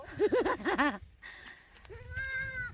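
Goats bleating at a farm's kid-goat area, several loud wavering calls close by in quick succession, followed by a longer drawn-out bleat, with people chattering faintly in the background.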